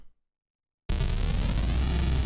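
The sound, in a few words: unprocessed synthesizer noise sound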